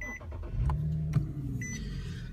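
A 2013 Infiniti G37x engine turns over and settles into a steady low idle, with a couple of faint clicks near the start.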